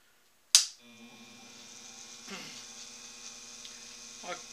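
A profiler tool motor starts with a sharp click, then settles into a steady, faint electric hum and whine at 1700 RPM, with a couple of brief louder rasps from cutting.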